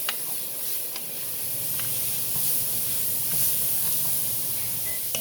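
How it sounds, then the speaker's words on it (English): Vegetables for a beef stew sizzle steadily in a hot pot as they are stirred, a continuous close frying hiss with small clicks of the spoon scattered throughout and no talking. "I'm going to stir them till they get a little soft."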